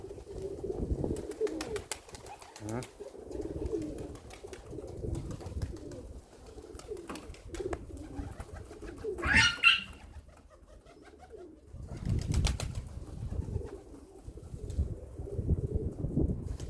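Pigeons coo in a courtship display, giving repeated low, throaty calls close by, with a brief flutter of wings in the middle and no voices.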